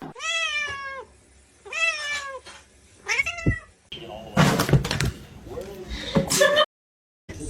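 A house cat meows three times in clear drawn-out calls, followed by people talking, shuffling and knocking sounds close by.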